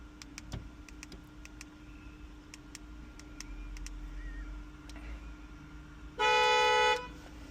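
A short electronic horn chirp from an Acura RDX, sounded once when the newly programmed smart key remote is tested; it is loud and brief near the end, over quiet background hum with faint ticking.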